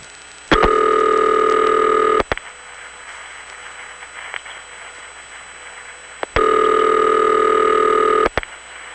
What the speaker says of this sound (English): And now the auxiliary sender drops out with the kata sound.